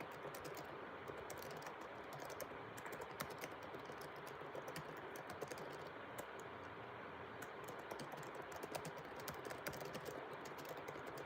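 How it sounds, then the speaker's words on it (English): Someone types an email on a computer keyboard, a quiet, steady run of rapid key clicks close to the microphone with no voices. "I'm typing the email out in English"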